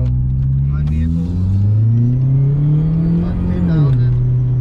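Straight-piped Volkswagen 2.5 liter 20 valve turbo engine revving, a loud deep droning exhaust note that holds steady, climbs and then drops back, close and dominant.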